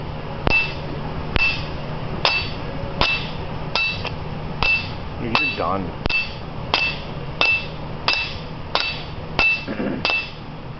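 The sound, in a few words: hammer striking metal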